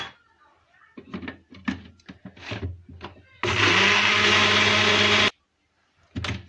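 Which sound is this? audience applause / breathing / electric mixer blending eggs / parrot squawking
electric mixer blending eggs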